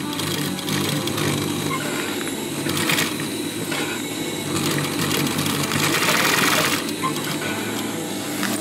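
A sewing machine stitches curved edges on canvas, running at a steady, fairly loud whir throughout with small pulses, while a voice talks over it.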